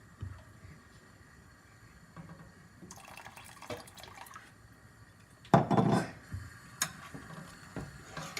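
Kewra water poured into simmering milk for rasmalai, with faint drips and liquid splashes, then a louder brief pour and clatter of a pot midway through.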